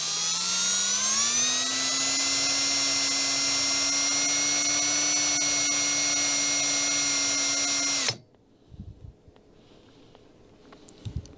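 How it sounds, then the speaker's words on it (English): Power drill boring a hole for a Smith & Wesson front sight, a loud steady whine that rises slightly in pitch and holds for about eight seconds before stopping abruptly, followed by faint handling clicks. "now that I am fully in, I can speed up that drill."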